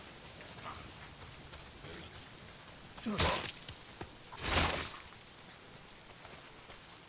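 Steady rain hiss in the video game Days Gone, a constant wash of falling drops beneath two louder bursts of noise, with a brief spoken word.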